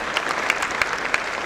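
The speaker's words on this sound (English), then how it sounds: "Let's have a great round of applause for them." A school audience applauds the students after a stage performance, the clapping thick and continuous, with a few sharper individual claps standing out at a steady pace.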